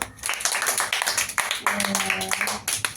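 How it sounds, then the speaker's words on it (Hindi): A small group of people at a birthday celebration clap in quick bursts of hand claps, close by and fairly loud, mixed with talking and a short sung tone. "ताली बजा दो सारे लोग।"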